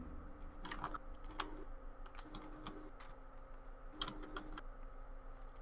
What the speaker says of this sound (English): I hear frantic typing in the background.